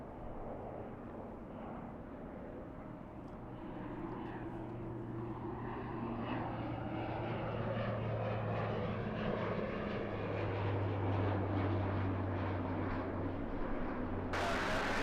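A Lufthansa airliner taking off at LAX, its engine roar rising gradually from a distant rumble into a loud, sustained, steady roar.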